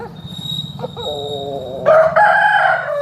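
A Dega breed rooster crows close by, a loud drawn-out call rising over steady low background noise, with a second burst of crowing toward the end.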